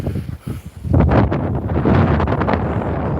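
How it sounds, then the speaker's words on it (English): Strong wind on Pointe Venus beach in Mahina, Tahiti, roaring and buffeting the microphone in loud, rumbling gusts that swell after the first second and keep blowing, with no talk. "There's a lot of wind."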